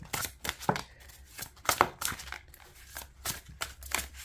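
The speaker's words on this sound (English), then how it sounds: "Okay, so let me shuffle this deck." A deck of gilded playing cards is given an overhand shuffle, producing a series of soft, quick papery clicks and riffles in uneven bursts, fairly quiet and close.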